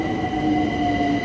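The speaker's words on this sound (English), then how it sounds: "So this is the overground train" A London Overground train rolls along with a steady loud rumble and sustained whining, squealing tones from the wheels, heard from inside the carriage.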